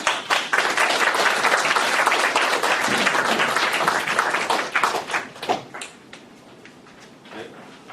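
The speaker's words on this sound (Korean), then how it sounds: "큰 박수 부탁드립니다." Applause from the audience at a Thursday philosophy colloquium welcomes Professor Na Jong-seok, loud crisp clapping for about five seconds that thins out into a few scattered claps and then fades to quiet.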